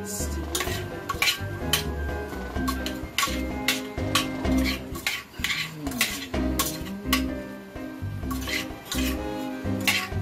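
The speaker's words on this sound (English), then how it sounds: "stir it up" Spoon stirring red bean stew in a metal pot, with repeated clinks and scrapes against the pot in an irregular rhythm, close and moderately loud with a faint sizzle underneath.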